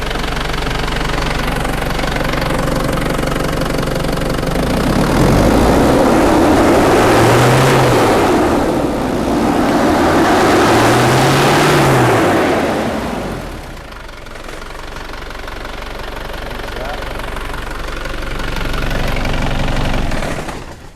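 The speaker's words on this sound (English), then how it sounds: "I'm just gonna rev this engine and we can see what's the numbers on the mass airflow sensor." A Holden Isuzu Rodeo with a lack-of-power fault is revved twice in quick succession, the engine rising and falling each time before settling back to a loud, steady idle with some knocking, close up and without talk.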